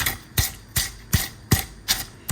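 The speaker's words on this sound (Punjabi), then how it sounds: "ਐਦਾਂ ਕਰਕੇ ਇਹਨੂੰ ਕੁੱਟ ਲੈਣਾ ਫਿਰ ਮੈਂ ਦੋਨੇ ਹੱਥ ਲਗਾ ਕੇ ਥੋੜਾ ਰਗੜ ਕੇ ਜੇ ਕੁੱਟਿਆ ਇਹਨੂੰ ਮਸਾਲੇ ਨੂੰ" Spice masala pounded by hand in a home kitchen: six firm, evenly spaced thuds come roughly every 0.4 seconds in a steady rhythm, each close and distinct with no talk.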